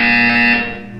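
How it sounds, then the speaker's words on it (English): A loud, steady electronic buzzer tone from the video game Portal 2 sounds alone, holding evenly before tapering off near the end. "When you hear the buzzer, look up at the ceiling."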